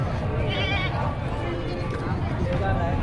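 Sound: goats bleating

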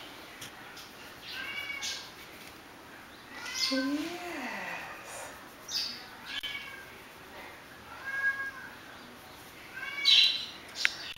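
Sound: cat meowing

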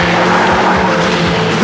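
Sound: rally car accelerating at full throttle in an anime

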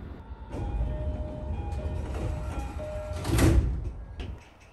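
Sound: train doors closing at Hazawa Yokohama-Kokudai station

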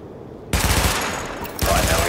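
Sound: weapon test gunfire at targets in video game The Division

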